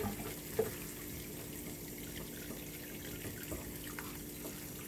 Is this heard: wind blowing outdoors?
no